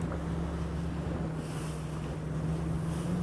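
A Falcon F-20 Predator boat idles along slowly through rough water, its low steady engine hum running throughout under loud wind buffeting and splashing, with no one talking.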